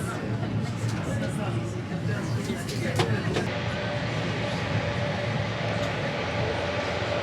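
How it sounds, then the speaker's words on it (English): A cog railway train rumbles and grinds steadily up a 25% grade on Pikes Peak, with a low mechanical drone, some metallic squeals, and people talking in the background. "that's why you have to have a COG railroad to do this."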